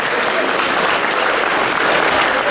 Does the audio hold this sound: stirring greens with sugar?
no